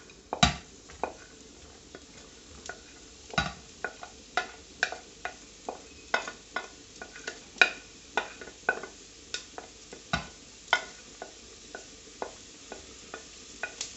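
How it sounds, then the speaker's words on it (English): Onions and garlic lightly frying in a pan, a soft sizzle broken by a series of sharp utensil scrapes and taps against the pan at irregular intervals, close and fairly quiet. "I'm going to lightly fry the onions and garlic."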